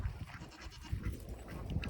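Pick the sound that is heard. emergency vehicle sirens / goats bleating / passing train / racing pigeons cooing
goats bleating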